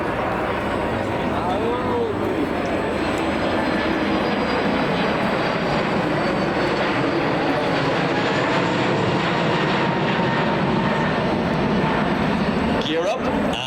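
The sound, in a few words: Aer Lingus A321XLR airliner applying full power and climbing away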